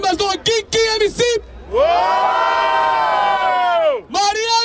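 At a freestyle rap battle in Barueri, São Paulo, the crowd roars a long sustained whoop and cheer, with loud shouted voices just before and after.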